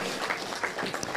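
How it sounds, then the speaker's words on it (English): An audience applauds at a primary school quiz, a brief burst of many hands clapping with scattered sharper claps, fairly faint and even throughout. "one big round of applause for our stars of the day"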